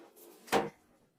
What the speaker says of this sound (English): there's no problem pulling the drawer all the way out.